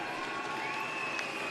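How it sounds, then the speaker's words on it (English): A Cheshire Phoenix basketball crowd at a BBL Championship game against Manchester Giants, a steady distant wash of cheering and crowd noise in an arena, faint and continuous. "reaction from the Phoenix crowd, seeing CJ return back to the bench"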